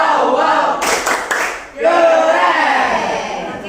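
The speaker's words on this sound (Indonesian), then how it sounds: "Tepuk keren untuk kelompok 3." A school class cheers and claps together for a group presentation, a loud burst of rhythmic chant-like clapping and voices from a crowd of students in a classroom.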